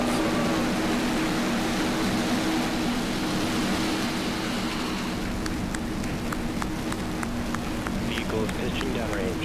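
SpaceX Falcon 9 rocket lifting off carrying the PAZ satellite and two Starlink demo satellites, a loud, dense roaring rumble that fills the whole span steadily, with faint voices over it.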